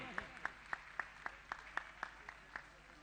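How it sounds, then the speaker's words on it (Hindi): Spaced, individual claps, roughly ten sharp hits at a steady rhythm about a quarter second apart, ring out in a quiet hall during a Jain community religious discourse, sounding like a single person or a small group clapping. "तालियां बजनी चाहिए आपके, हमारे जैन समाज के गौरव हैं।"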